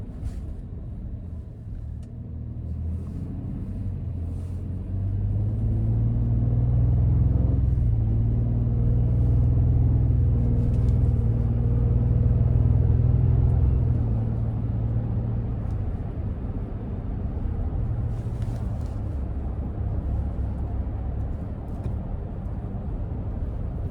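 A 2026 Ford F-150 Platinum with a 3.5-liter twin-turbo engine drives through city traffic, its low engine rumble swelling steadily as it picks up speed, then easing to a constant cruising drone.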